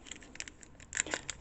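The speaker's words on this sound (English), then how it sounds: "let's go ahead and open up this 15 card draft booster" A 15-card draft booster pack of trading cards is torn open, producing faint scattered crinkles and tearing foil rustles that swell briefly near the end, with no talk.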